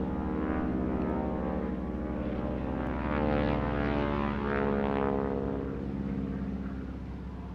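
A propeller-driven aircraft making a low pass at a seaside airshow, a loud steady engine drone that swells and shifts pitch as it goes by, continuous throughout.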